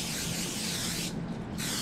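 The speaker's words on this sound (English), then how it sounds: "Alright, I'm going to spray this," Cooking spray hisses steadily from a can onto foil packets prepared for camp meals, a close, continuous spray with a short pause before it resumes.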